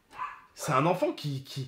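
Dogs in a home bark after a doorbell rings, a few short sharp barks and yips close by, mixed with a person talking over them.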